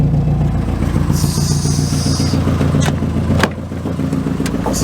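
A car with a built Honda H22 turbocharged engine is driving, giving a loud, steady engine drone with a brief whistle-like tone and sharp clunks partway through, then a slightly lower hum.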